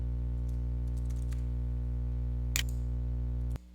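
Keys on a computer keyboard are typed in a light series of clicks during mind-mapping software work, with one sharper click near the end, over a steady electrical hum.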